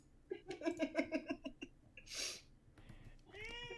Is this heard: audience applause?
no